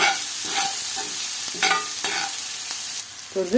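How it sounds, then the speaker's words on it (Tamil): Onions sautéing in a pan for gongura chutney, a steady sizzle with repeated scraping stirs of a spatula, close and continuous with no voices. "எனக்கு நிறைய வெங்காயம் நல்லா வதங்கிடணும்"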